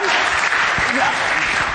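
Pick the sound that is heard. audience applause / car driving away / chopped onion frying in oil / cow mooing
audience applause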